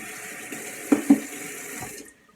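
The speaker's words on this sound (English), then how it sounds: "Gotta rinse that off so it doesn't get all yucky." A cup being rinsed under a running kitchen tap, heard as steady close water flow with a couple of splashing knocks before the tap shuts off.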